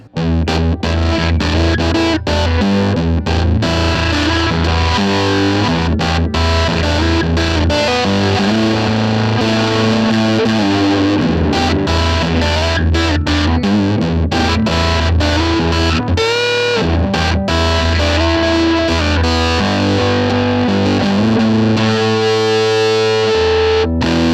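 Heavily overdriven electric guitar through a Tru-Fi Colordriver transistor overdrive pedal, playing chords and riffs continuously, loud and gritty with a thick distorted tone throughout.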